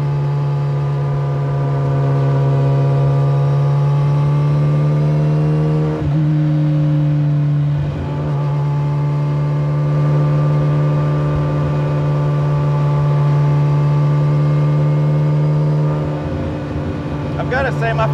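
A Campagna T-Rex three-wheeler powered by a Kawasaki ZX14R engine drones loudly and steadily while being driven, its engine note holding high with brief shifts, rising sharply again near the end.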